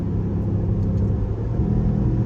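A Dodge Durango R/T with a Hemi V8 engine gives a steady, deep low rumble from close by, loud and unbroken throughout with no talk.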